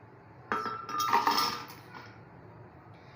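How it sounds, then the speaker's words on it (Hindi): Ice cubes tumble into a blender jar while making cold coffee, a short clattering, clinking rush of hard pieces striking the container for about a second, then settling into quiet. "अब इस ब्लेंडर के अंदर बॉल भर के जो है हम बर्फ़ का डालेंगे"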